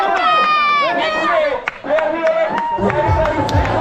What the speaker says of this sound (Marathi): क्रिकेट प्रेमींची या ठिकाणी तुरुंब गर्दी पाहायला मिळते.